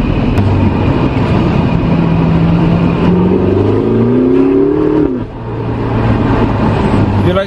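A 560-horsepower Ferrari twin-turbo car accelerates at Ferrari World in Abu Dhabi, its engine note climbing steadily in pitch and then dropping off, over constant loud road and wind noise.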